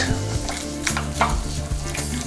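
A marinade for Amritsari fish, made with yogurt, is stirred vigorously. It gives a continuous wet, squelching swish with quick scrapes, close up, over a low steady hum.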